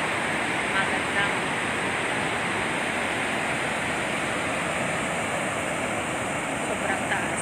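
Torrent of water pouring from the Magat Dam spillway during a typhoon, a loud, dense, unbroken roar that stays steady throughout with no break or pause.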